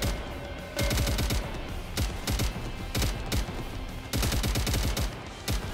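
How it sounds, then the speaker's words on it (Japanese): Rapid bursts of automatic gunfire from the NIKKE video game, clustered volleys of sharp shots in irregular rhythm at steady close loudness, with no speech. "前方に発射。"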